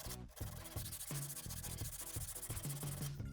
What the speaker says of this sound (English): I then give it a sand by hand.